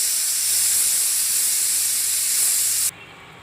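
A pressure cooker whistle vents steam in a loud, continuous high hiss while kang (foxtail millet) khichdi cooks, holding steady for about three seconds before cutting off abruptly.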